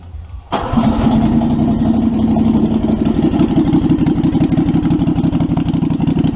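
A Predator 670 engine with a freshly adjusted stock carburetor fires up after a short quiet moment and settles into a loud, steady, close running chug that holds to the end.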